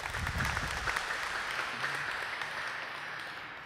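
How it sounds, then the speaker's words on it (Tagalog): A congregation at a Santo Niño novena Mass in Tacloban church applauds, a dense, steady wash of many hands clapping that holds for several seconds and tapers slightly near the end. "hin masipa nga palakpak."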